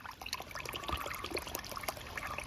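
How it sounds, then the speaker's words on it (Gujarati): Water pours and trickles into a container, a soft, steady dribble heard close up and fairly quiet, with no talking. "આમાં પાણી ભરી દઈએ ને મેલી દઈએ."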